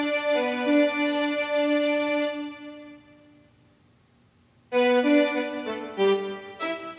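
Logic Studio Strings in a large hall reverb with long pre-delay, sustained bowed chords that fade into a reverberant tail before a fresh swell of string notes returns, moderately loud and without voices.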